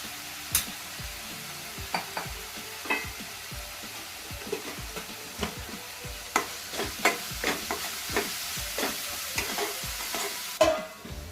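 Onions, coriander powder and spices frying in a pan for a rustic village-style chicken masala, with steady sizzling broken by repeated sharp scraping stirs of a spoon, close and clear, no talking.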